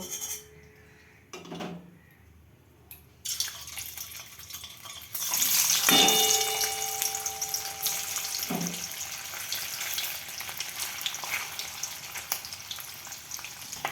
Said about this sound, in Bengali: আমি কড়াইয়ে সাদা তেল গরম করে নিয়েছি, এতে আমি পনিরগুলো ভেজে নেব